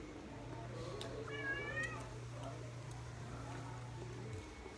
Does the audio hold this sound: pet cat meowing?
yes